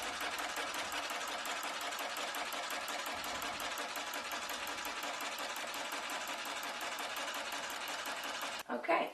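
Longarm quilting machine stitching freehand along a quilt block seam, a steady, fast mechanical rattle of needle strokes running continuously and close by, ending with a brief clunk.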